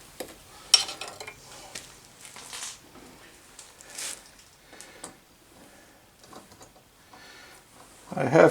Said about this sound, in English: I'm going to finish cutting the threads over here in the vise